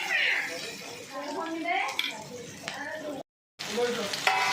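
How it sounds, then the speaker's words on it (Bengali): Chopped onion and tomato fry in leftover fish-frying oil, a steady close sizzle that runs beneath a talking voice and drops out briefly near the end. "একটা টমেটো আর একটা পেঁয়াজ কুচিয়ে দিয়ে দিলাম দিয়ে একটু ভাজা ভাজা করে নিচ্ছি"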